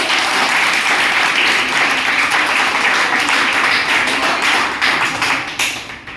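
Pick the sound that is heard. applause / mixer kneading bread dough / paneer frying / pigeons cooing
applause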